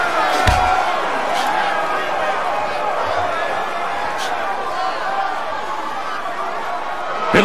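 A devastating slam takedown lands in an MMA fight-night video game, a sharp impact near the start rising over a constant roaring arena crowd and game sound that carries on for several seconds.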